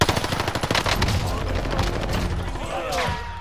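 Rapid gunfire bursts from a shooter video game, an XM4 rifle among them, crackle in quick, close, loud volleys. The shots blend with heavier thumps and a rumbling background under brief speech.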